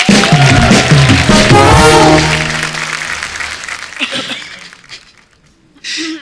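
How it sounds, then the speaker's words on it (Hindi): A studio audience at The Kapil Sharma Show bursts into loud applause over swelling music, the clapping thinning and fading away before a short fresh burst rises at the very end. "हमारे सारे सुपरस्टार लोग के लिए जोरदार ताली।"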